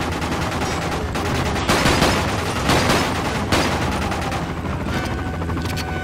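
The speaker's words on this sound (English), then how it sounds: "Stupid helicopter." Helicopter and gunfire in the video game Quantum of Solace: bursts of automatic fire in several loud volleys over a constant rotor drone, close and dense, with no voices.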